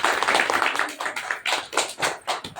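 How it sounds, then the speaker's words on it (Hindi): Audience applause at a business meeting, a burst of clapping from a crowd that rises and swells in waves, fairly close and steady throughout with no talking over it. "एक बार जोरदार तालियां।"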